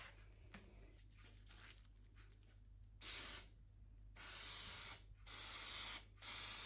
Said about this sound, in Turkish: Uygulamayı yaparken yapıştırıcıyı karıştırıp hem kalıba hem de beze sıkıyoruz